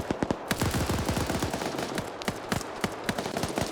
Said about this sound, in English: now you got the fast attack Vix firing up here